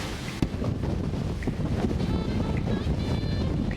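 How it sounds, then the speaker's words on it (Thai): Strong wind buffets the microphone outdoors on New Zealand's South Island, a loud steady roar with gusty low rumble filling the whole stretch, one sharp thump early on. "เราก็จะเดินประทะลมกันเข้าไปก่อนนะคะ"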